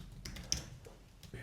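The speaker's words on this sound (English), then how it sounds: "I'll start typing." Quick, soft clicks of typing on a computer keyboard come through faintly over a short stretch.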